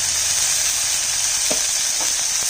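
Food frying in a little oil with turmeric, a steady loud hiss of sizzling oil in a pan, with a few faint scrapes of stirring partway through and no voices.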